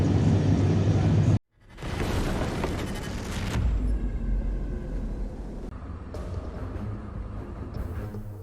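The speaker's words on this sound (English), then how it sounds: "Взрывается что-то." A loud, distant boom from a strike on Engels airbase rolls out, followed by a sustained roaring rumble that slowly fades.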